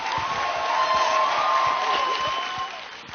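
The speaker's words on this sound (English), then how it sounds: "Let's give them another round of applause." Applause from a Nu Skin Leadership Conference audience fills the hall in a steady, dense wash of clapping for about three seconds, with a sustained tone running underneath before it begins to fade near the end.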